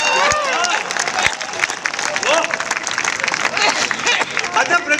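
Audience applause rising from a crowd at a Hindi comedy poetry gathering, a steady dense patter of clapping with murmuring voices mixed in, fairly loud and sustained.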